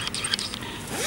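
A tent zipper is pulled open in one quick, close, scratchy rasp lasting about a second.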